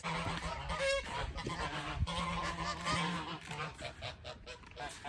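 Several geese on a homestead honk loudly and repeatedly nearby, their harsh calls overlapping in an agitated chorus.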